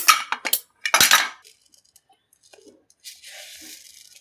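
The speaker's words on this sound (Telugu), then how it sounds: "ఫస్ట్ వచ్చేసి 2 కప్పులు కందిపప్పు పోసుకుంటున్నాం" Dry toor dal poured into a pot, a rattling rush of hard grains hitting metal in a few quick bursts, followed by quieter clinks and rustling.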